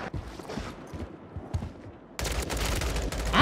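Gunfire in Warzone, an M16 fight with the enemy shooting back: dense broadband bursts of rapid shots, busier and louder in the last second, with scattered nearer pops before that.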